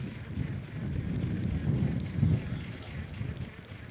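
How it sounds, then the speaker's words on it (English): Wind gusting along the bank of the River Humber during a cod fishing session, a steady low rumbling buffet against the microphone that swells briefly in the middle, with no other clear sounds. "The wind's picking up as well."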